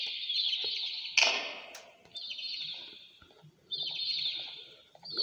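Birds in the Garden of Banban 2 video game chirp in sustained high, shrill twittering stretches, broken by a sharp louder squawk and quieter gaps, with faint clucking-like sounds.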